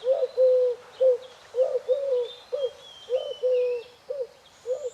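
A turtle dove coos in a steady series of soft, repeated hooting notes, close and clear, with faint high bird chirps in the background; no flight sound stands out.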